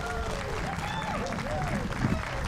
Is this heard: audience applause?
yes